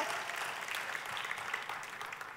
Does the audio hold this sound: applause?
yes